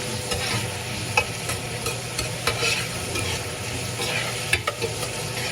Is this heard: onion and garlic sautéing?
yes